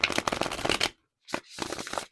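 Tarot cards being shuffled make two bursts of dense, crisp riffling close to the listener, separated by a brief silence.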